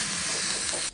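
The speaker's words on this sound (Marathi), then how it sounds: "एकदम साधी सोपी फोडणी, मोहरी, हिंग, हळद आणि मग कढीलिंब घालायचा" Mustard seeds, asafoetida, turmeric and curry leaves hit hot oil for a traditional amti tempering, giving a loud, steady broadband hiss that cuts off abruptly just before the end.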